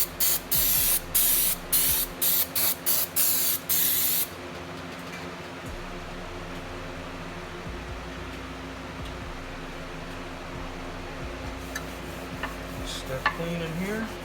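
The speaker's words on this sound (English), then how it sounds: "I'm gonna use some throttle body cleaner. Just gonna spray the actual thing on there." Throttle body cleaner sprays from an aerosol can in several short, loud, close hissing bursts, followed by a long stretch of quieter background hum.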